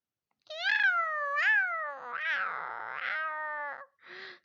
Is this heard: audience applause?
no